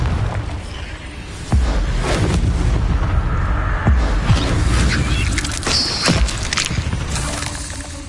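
Confringo blasting spells in the video game Hogwarts Legacy go off as loud booming explosions, a sharp blast at the start followed by repeated bursts and crackling impacts.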